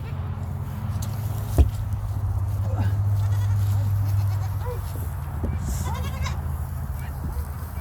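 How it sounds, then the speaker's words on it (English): A goat named Kalua bleats several times amid a steady low hum and light rustling on a homestead, the cries moderately close and brief, with occasional soft thuds. "Are you being a silly goat, Kalua?"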